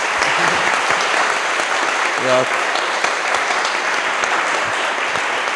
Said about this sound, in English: maybe we can close this session with a round of applause